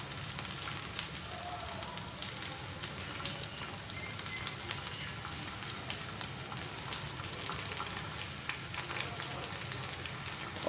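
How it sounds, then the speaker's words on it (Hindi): Onion and chopped capsicum for an egg omelette sauté gently in a pan, giving a soft, even sizzle with light crackles throughout and no clear voice. "अब मैं इसमें रखूँगी इस तरह से ये शिमला मिर्च कटी हुई"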